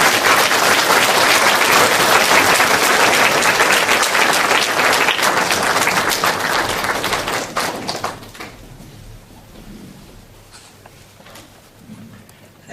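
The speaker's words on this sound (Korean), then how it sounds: "오늘 귀중한 시간을 내주신 법륜 스님을 큰 박수로" Loud, dense applause from a large audience in a lecture hall welcomes a Buddhist monk, sustained for several seconds before thinning out into scattered claps and quiet.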